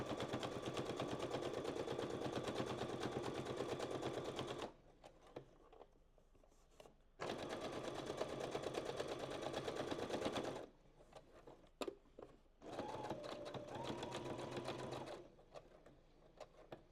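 A sewing machine runs in long, steady buzzing bursts while back stitching on corners, stopping and restarting three times with quiet gaps of small clicks between runs, close and clear.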